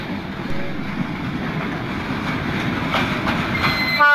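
A train rolls steadily along rails near a station, a loud continuous rumble with rhythmic clickety-clack and a faint squeal toward the end, heard alone.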